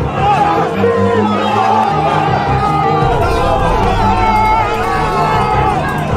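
A dense crowd of about 200 people gathered around a Durga temple in Birmingham's Mathwick area, a loud continuous babble of many overlapping voices with occasional shouts.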